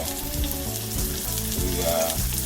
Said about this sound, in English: we're gonna go ahead and saute our mushrooms